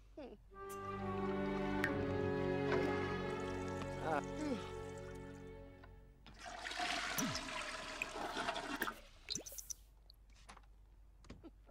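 Toilet flush in The Sims 4 life-simulation game, a loud rushing swirl of game water rising midway and fading with gurgles, following a stretch of tonal game music and chatter.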